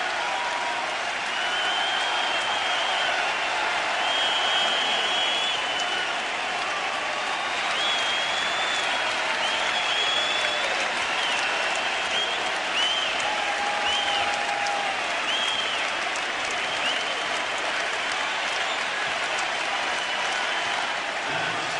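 A large basketball arena crowd in Philadelphia applauds and cheers steadily for the whole stretch, a dense, loud, unbroken roar of clapping with scattered whistles and shouts.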